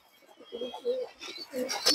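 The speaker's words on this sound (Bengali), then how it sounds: "এবং ছোট ছোট কবুতর দর্শক" Small pigeons, khaki and other fancy breeds kept by a breeder, give soft cooing calls with a few chirps, close and brief, over faint background noise.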